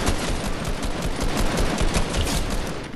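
SMG fire sprayed nonstop in Fortnite, a dense, loud, unbroken rattle of rapid shots filling the whole stretch with no pauses.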